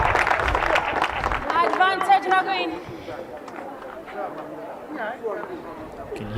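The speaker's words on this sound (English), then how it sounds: "hear the murmur amongst the crowd here" Spectators murmur low and steady around a center court at an ITF World Tennis Tour men's event in Gaborone, a soft crowd hum running under commentary voices, with brief livelier bursts of chatter.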